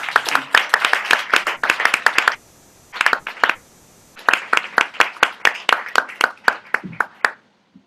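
A small concert crowd in Hong Kong claps in rhythmic unison, loud and close, stopping briefly twice and then resuming the steady beat before fading.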